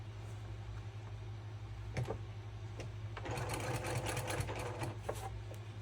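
Sewing machine stitching a double wedding ring quilt, a faint steady motor hum with scattered clicks and a livelier burst of needle rattling in the second half.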